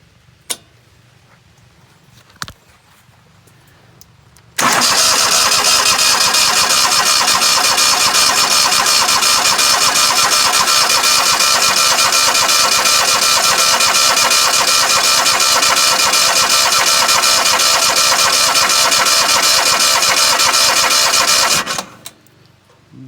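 A newly fitted 35 hp engine on a Scag mower turns over for its first start, a loud steady cranking drone running about seventeen seconds after a couple of faint clicks, then cutting off abruptly.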